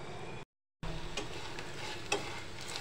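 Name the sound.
cake pakora dough frying slowly on low heat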